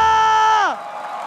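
A crowd at the MPL Indonesia grand final cheers and applauds in a broad wash of noise, emerging right after a sustained tonal sound cuts off and continuing steadily to the end.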